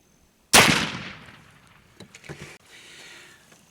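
A single sharp muzzleloading rifle shot firing a patched round ball cracks out loud and close, then rings off into a long fading tail, followed by some faint handling clicks and low background noise.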